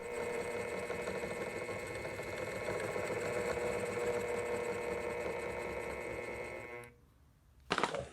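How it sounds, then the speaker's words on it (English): Power feed motor on a Bridgeport mill running with its gear not meshing with the motor pinion, a steady close whirring buzz that cuts out near the end, followed by a short clunk. "The gear is not meshing with the motor pinion."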